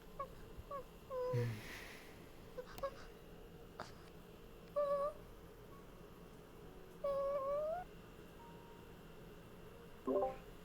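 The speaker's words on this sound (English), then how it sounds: "Where are you, little kitty?" A small cat meows several times indoors, short pitched calls spaced across a quiet room with a soft voice nearby.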